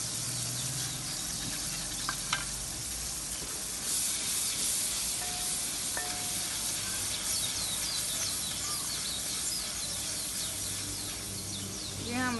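Onion and spices frying in a pan for vegetable pulao give a steady, close sizzling hiss that runs unbroken for the whole stretch, with a few faint clicks and chirps in the background.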